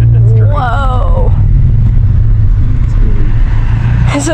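Car fitted with a catback exhaust at a car show, a loud deep rumble that swells briefly in a rev, with a voice talking and exclaiming over it close by.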